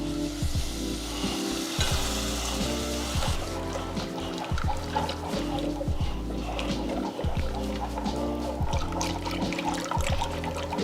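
Milk poured into a cooking flour roux for mac and cheese, giving a steady sizzle and bubbling with watery pouring and stirring throughout, loud and close, with no talk.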